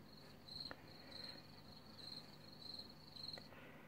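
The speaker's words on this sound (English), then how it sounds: "Crickets." A crickets sound effect played from a soundboard app on a tablet or phone: repeated chirps in short regular bursts, about five pulses over a steady faint background hiss, fairly quiet and alone.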